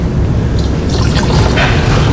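Liquid pours into a container for black oxidizing a flywheel adapter, a brief close trickle and splash over a low steady background rumble.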